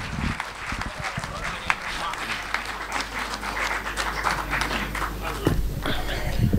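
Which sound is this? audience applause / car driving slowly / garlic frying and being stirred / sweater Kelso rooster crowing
audience applause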